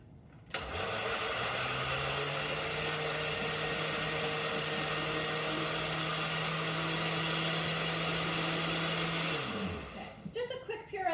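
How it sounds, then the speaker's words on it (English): Blender pureeing fresh washed blueberries, a loud steady whirring hum that starts abruptly, holds for about nine seconds, then winds down into a few clunks. "I'm going to just dump them in my blender"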